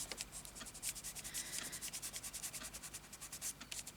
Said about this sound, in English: Keep rubbing, it'll come off.